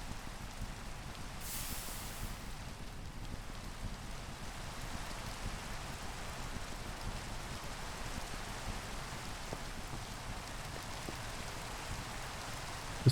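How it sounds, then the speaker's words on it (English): Steady rain falling in the blocky Minecraft (modded 1.20.1) world, a constant soft hiss of drops that holds evenly for the whole stretch with no voices over it. "There's been a lot of rain in this world."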